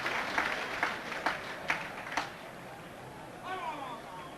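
Fading applause from the football crowd at Plymouth Argyle versus Luton Town, 1996/97, a few scattered, distinct claps over stadium murmur before dying away under a commentator's voice.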